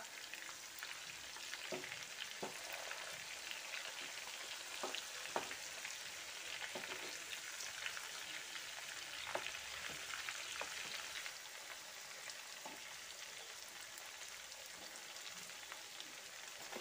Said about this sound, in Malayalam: ഞാനിത് അടച്ചു വെച്ചിട്ടാണ് കേട്ടോ ഫ്രൈ ചെയ്തെടുക്കണത്